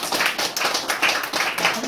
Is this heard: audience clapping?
yes